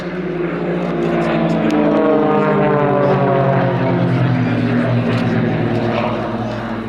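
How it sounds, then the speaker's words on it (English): Aerobatic propeller aeroplane performing at an air show, pulling up into the vertical before a flat spin, its steady loud engine drone droning continuously with shifting pitch and a faint commentary voice underneath. "Mark pulling up to the vertical. Into a flat spin on the way down."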